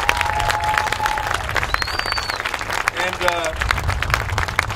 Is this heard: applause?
yes